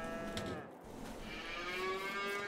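Cows moo in the farming video game Farming Simulator 22, with a long drawn-out bovine low at moderate distance, layered calls overlapping and rising in pitch toward the end, with no talk over it.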